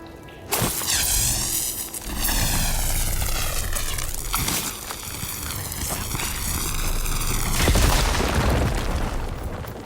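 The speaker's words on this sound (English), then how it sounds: "Should be able to blow up that fire gleam." A fire gleam blows up in Horizon Forbidden West: a sudden loud blast with rising whooshing tones and rumbling aftershocks, followed by a second swelling burst, with no talk.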